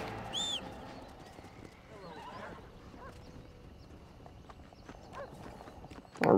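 Faint hooves clop steadily in the background of the video game Red Dead Redemption, with a brief high whinny near the start and a louder burst at the very end.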